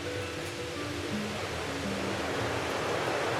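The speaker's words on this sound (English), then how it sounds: "And it's a river now." A river rushes beside a backpacking trail in Olympic National Park, giving a steady, dense roar of flowing water that stays even and unbroken throughout, with no voices.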